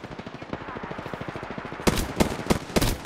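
Automatic gunfire from an Apex Legends match, a steady stream of rapid shots followed by several louder, sharper bursts close by, with no talking over it.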